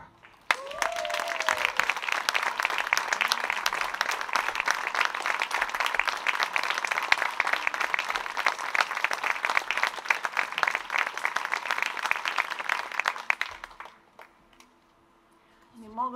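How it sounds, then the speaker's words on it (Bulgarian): Audience at a dance awards ceremony bursts into sustained applause, dense clapping holding steady for about thirteen seconds before fading to near silence. "Аплодисменти за госпожа Елисавета Груева."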